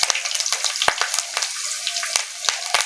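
Chopped garlic sizzles steadily in hot oil in a pan, a dense, close frying crackle with sharp pops scattered throughout and no voices.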